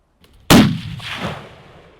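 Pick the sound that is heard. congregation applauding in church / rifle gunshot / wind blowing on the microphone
rifle gunshot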